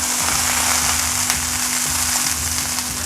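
Pot roast meat browns in a hot pan, producing a loud, dense, continuous sizzle with a low steady hum underneath and no voices.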